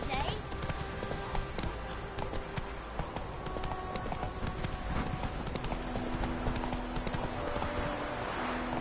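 Hooves of the horse Roach clip-clop in a quick, steady galloping rhythm in The Witcher 3, loud and continuous, with a brief whinny and voices speaking over the hoofbeats.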